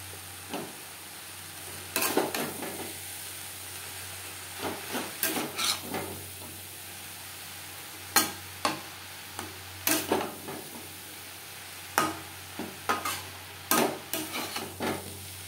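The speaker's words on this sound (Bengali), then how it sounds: "কাঁচা গন্ধ যাওয়া পর্যন্ত নাড়াচাড়া করে দেবো, আর সবজি একটু কমে আসা পর্যন্ত" Vegetable momo filling of cabbage, capsicum and carrot with salt being stirred in a pan, a utensil scraping in repeated uneven strokes over a soft steady sizzle, close and clear with no talking.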